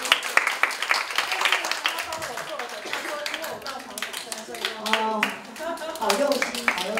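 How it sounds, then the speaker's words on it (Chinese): An audience at a spiritual lecture gives a round of scattered hand clapping, made of many quick, sharp claps. It goes on for several seconds while a voice keeps talking over it. "我们先用掌声，谢谢郭先生。"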